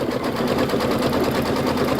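A Kimberbell embroidery machine runs steadily through its quilting stitches on an Oh Sew Delightful project, giving a continuous close mechanical whir and rapid rhythmic clatter that holds an even level throughout with no talking.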